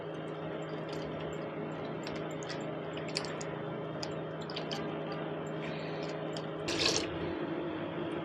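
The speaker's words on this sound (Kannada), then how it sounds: "ಬೆಣ್ಣೆ ತೊಳೆದಿದ್ದ ನೀರು ಬಗ್ಗಿಸ್ತಾ ಇದ್ದೀನಿ" Water left from washing homemade butter is poured out of a vessel into buttermilk, a steady splashing flow with a louder gush near the end and no talking.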